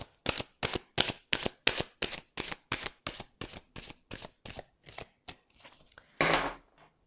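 Oracle cards being shuffled for a tarot-style reading, a quick run of about sixteen crisp riffling bursts in steady rhythm, close and clear, ending with a louder longer rustle as the deck is settled, no talking.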